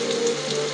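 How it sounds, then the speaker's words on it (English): Driving rain in the Death Gate adventure game, a dense steady hiss of downpour with a faint sizzle, continuous and even, no voices. "Somewhere in the driving rain, you hear the pop and sizzle of Sangrax's fire being doused"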